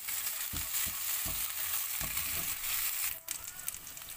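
Onions sauté in a pan for a stuffed chicken paratha filling, a steady close sizzle with a few soft stirring scrapes, dropping off near the end.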